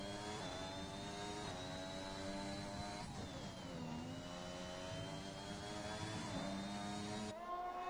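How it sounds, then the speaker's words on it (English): A sim race car engine sits on the rev limiter in a CDR Tier 1 Canada race, giving a sustained high-pitched buzzing drone with slight wavering dips, steady and fairly faint throughout. "The revs were bouncing."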